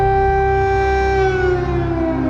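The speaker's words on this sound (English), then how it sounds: "First came the familiar sound of air raid sirens." Air raid sirens wail steadily and loudly in Ukraine during wartime, a sustained rising-and-falling civil defense tone that fills the whole stretch with no pauses.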